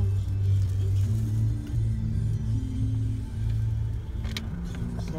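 Road traffic in afternoon congestion near Silang, Cavite, with a steady low rumble of passing cars and engines humming close by, no talking.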